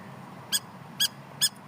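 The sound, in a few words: bird calling near the speaker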